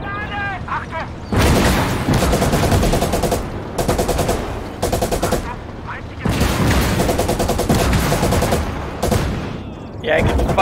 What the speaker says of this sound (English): I can fire my machine guns, but I can't turn it, so it's not really very effective